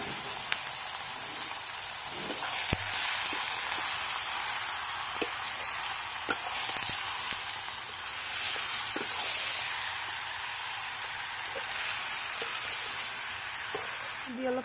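Food frying in a pan gives a steady hiss and fine crackle that runs throughout, with scattered small pops and clicks.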